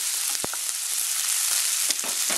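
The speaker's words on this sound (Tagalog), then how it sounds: "Lutuin lang natin itong onion" Onion sautéing in a pan for a Filipino clam dish, with a steady close sizzle and a few sharp clicks and scrapes of stirring over the top.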